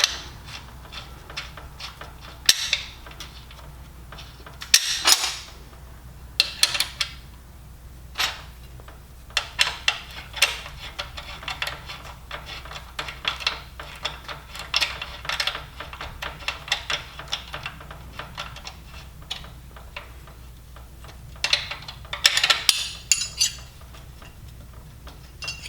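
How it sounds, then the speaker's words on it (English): A nut tightened onto a cap screw through a ground strap while assembling a CertiFlat DIY welding positioner kit: close, irregular metallic clicks, ratcheting and small clanks in quick bursts, with no talk. "I'm going to put the included cap screw through the hole, through the ground strap, and nut it on the back."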